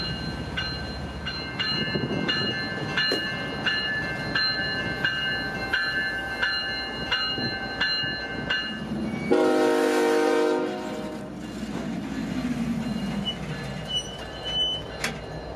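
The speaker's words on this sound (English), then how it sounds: "Now the crew brings the engines past and leaves the freight cut behind the switch" Freight locomotives on the Palmetto Subdivision rail line rumble past close by, with repeated horn-like tones early on and a loud surge of engine noise midway before settling back.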